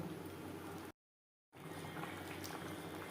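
Mustard and poppy seed gravy with hilsa fish and aubergine bubbles in a pan on the stove, a steady soft simmering hiss cut by a short gap of silence.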